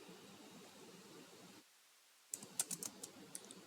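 A computer keyboard clicks softly as Java code is typed, a quiet cluster of close keystrokes after a brief lull, over faint background hiss.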